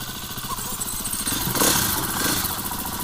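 An enduro motorcycle engine warms up just after starting, a steady close putter with a brief rev swelling midway, heard on its own.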